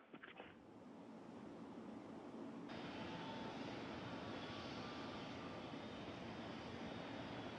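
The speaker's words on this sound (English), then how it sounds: "Space Shuttle carrier aircraft with Endeavour strapped atop coming in for its landing at Ellington Field" Space Shuttle carrier aircraft with Endeavour mounted on top coming in to land at Ellington Field, Houston, a faint distant engine roar that swells and holds as a steady broadband rumble.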